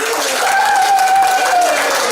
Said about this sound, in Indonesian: Oke, tepuk tangan yang kelima.